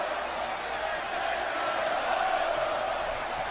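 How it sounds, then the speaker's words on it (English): A large arena crowd in the wrestling game WWE 2K18 roars and chants steadily and loudly for an NXT match, a continuous wall of voices with no breaks. "You hear this crowd, they're chanting for the phenomenal one."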